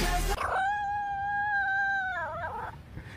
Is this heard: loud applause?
no